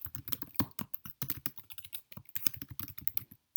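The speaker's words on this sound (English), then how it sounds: "So I'm going to type up a message." A message typed on a computer keyboard, with rapid, irregular key clicks in quick bursts and brief pauses, close and clear with no talk.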